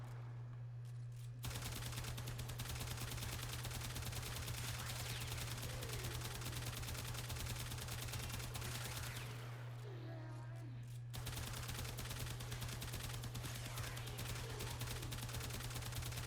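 Rapid automatic fire from a Braton Prime rifle in the video game Warframe rattles continuously at moderate loudness under a steady electrical hum, with a short break partway through.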